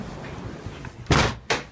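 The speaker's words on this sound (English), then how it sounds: "half of that snow was inside the door already before I opened it" A door is pulled open and thumps twice during a blizzard, two sharp knocks over a low background rumble, close by.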